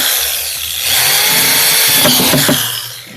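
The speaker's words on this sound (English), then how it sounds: "when you're using the power tools there" A power tool whirs loudly, ramping up and running at high speed for a few seconds before winding down.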